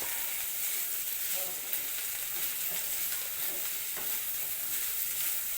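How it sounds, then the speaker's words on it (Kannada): Okra (lady fingers) sizzles steadily as it is fried and stirred in a pan for palya, a dense, even hiss with faint scraping throughout. "ಲೋಳೆ ಹೋಗೋವರೆಗೆ ಚೆನ್ನಾಗಿ ಹುರಿದುಕೊಳ್ಳಿ"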